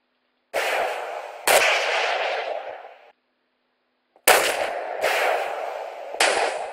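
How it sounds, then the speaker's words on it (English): Video game gunfire in bursts: a sharp shot opens each sustained volley of rapid firing, with two long runs separated by a short silent gap, loud and close with no talking. "I'm just firing at him like crazy."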